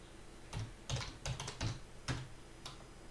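Keys tapped on a computer keyboard while entering a password, a short run of about seven distinct clicks in an irregular rhythm, close and fairly quiet, with no talking.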